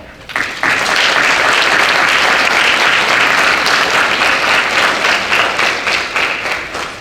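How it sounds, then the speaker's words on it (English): Students at a celebration event break into loud, warm applause for their families, parents and mentors, a sudden dense burst of clapping that stays full and steady throughout. "give a warm, appreciative applause to your family, your parents, and the mentors who helped you get this far"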